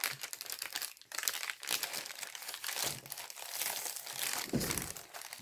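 Baking paper being crumpled and crinkled up close, a continuous rustling crackle with a few sharper crunches.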